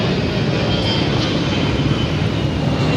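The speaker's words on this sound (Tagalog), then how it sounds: "Aeroplano." An airplane passes overhead above a busy city street in Pasay City, making a loud, continuous broadband engine roar that holds steady throughout the clip.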